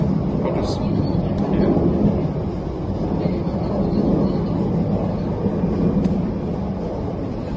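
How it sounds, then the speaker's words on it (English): An airplane passing overhead, heard as a steady broad rumbling drone that holds for several seconds without fading. The setting is outdoors after a thunderstorm has eased, and no one speaks over it. "there's a plane overhead as well"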